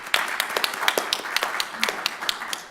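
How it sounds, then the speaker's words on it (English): An audience at an academic research panel claps, a scattered patter of individual hand claps from a small-to-medium crowd at moderate distance, continuing steadily without voices. "I didn't ask you to clap for yourselves"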